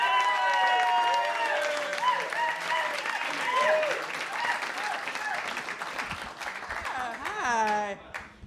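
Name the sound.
comedy club audience applause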